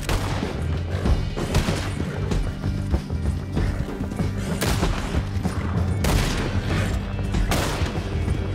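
A Red Dead Redemption 2 gunfight during a canyon chase, with scattered loud shots and booms over a dense, busy din that includes galloping hooves.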